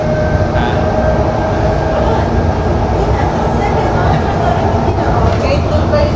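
Steady loud rumble and rattle inside a moving train carriage, a continuous dense rail roar throughout with faint voices mixed in.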